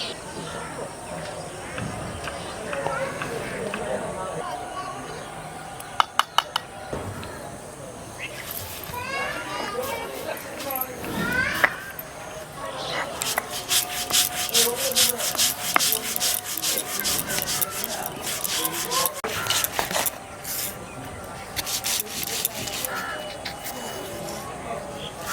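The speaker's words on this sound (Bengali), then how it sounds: "তো আমি পোস্ত প্রথমে বেটে নেব।" Poppy seeds ground into a paste on a grinding stone for a chicken dish cooked over a bamboo fire outdoors, heard as steady rubbing and rasping strokes, with scattered clicks and background voices and outdoor ambience.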